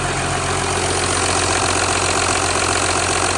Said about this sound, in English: waiting for the engine to warm